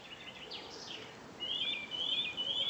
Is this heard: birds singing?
yes